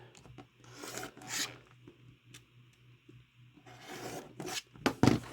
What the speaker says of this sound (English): I'm going to put my 45-degree line right on that trim line and trim these down